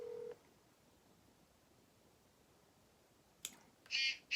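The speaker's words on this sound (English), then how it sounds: "We're going to see if my dad will answer the phone for us." A phone call is dialed: a short tone at the start, a stretch of quiet line hiss, then a click and a brief burst of electronic tones near the end, faint and alone with no speech.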